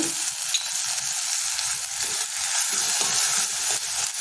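Rice stir-fries in a hot pan with green chilies and vinegar, a steady loud sizzle with scattered scraping and stirring noises running throughout, no talk.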